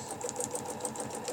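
A sewing machine does free-motion stitching along a ruler, tracing petal lines with a fast, even needle pulse that runs continuously at moderate volume.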